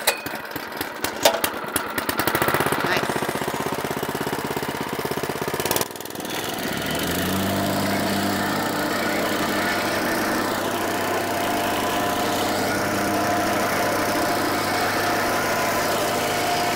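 A gasoline engine on a compactor sputters through a few pulls, catches, and settles into a steady loud idle that runs on alone.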